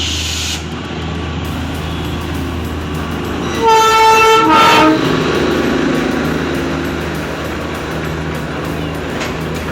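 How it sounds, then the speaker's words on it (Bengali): The Darjeeling toy train rumbles past nearby and gives one loud, clear horn blast of about a second in the middle, over a continuous background of rolling noise. "এই টয় ট্রেনটার পিছন পিছন আবার একটা টয় ট্রেন আসছে"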